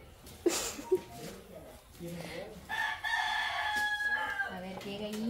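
A chicken or rooster is heard at a Salvadoran home at dinnertime. One steady, drawn-out call sounds fairly close, and people talk around it.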